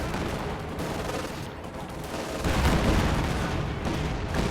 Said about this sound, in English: all my tanks are just shooting at the infantry here